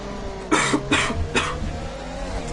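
Three sharp coughs, close to the mic, break through a steady engine drone from a Bahrain Grand Prix sim race in the background.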